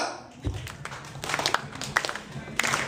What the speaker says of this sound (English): Everyone, give me a beat. Come on. Clap. Clap!